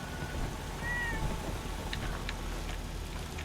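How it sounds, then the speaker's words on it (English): A cat in a Fallout 4 settlement gives a single soft meow early on, faint over ambient game background noise, followed by a few light clicks. "we've got, again, 4 cats in the settlement in addition to Dora, the original cat"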